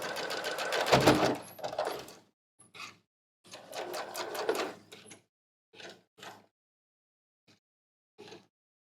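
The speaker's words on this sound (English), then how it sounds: "On this top edge, I will sew all the way to where I started" A sewing machine stitches the top edge of a pant casing in several short, uneven bursts separated by silences, the first run longest and loudest, later ones brief and quieter.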